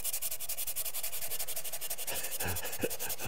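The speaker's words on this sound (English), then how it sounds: "A lot of sandpaper." Sandpaper rubbed by hand across a wooden exterior door threshold to smooth a burned spot, a steady close scratchy rasping that runs throughout with a few brief knocks near the end.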